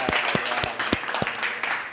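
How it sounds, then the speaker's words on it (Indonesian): Students in a classroom applaud a presenting group, a small, sparse clapping with distinct individual claps spaced irregularly, close and fairly clear over the room's background. "Tepuk tangan buat kelompok"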